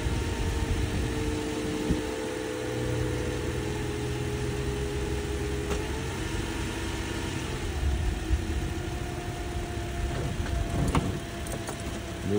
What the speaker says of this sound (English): Quiet engine on the Toyota.